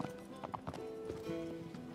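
Horse hooves clip-clop in Shadow of the Colossus, a quick irregular series of hoofbeats over a steady game soundscape with a faint whinny-like tone.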